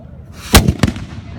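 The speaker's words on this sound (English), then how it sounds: "All right, gun number one, fire." A historic cannon fires a single loud, sharp boom at close range, followed by a quick echoing report outdoors at the Feast of Saint Claire in Port Huron, Michigan.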